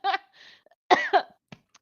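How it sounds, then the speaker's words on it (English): A person coughs a few times in short, close bursts with small gaps between them, followed by a faint throat sound and a little breath. "That one made me cough a little bit."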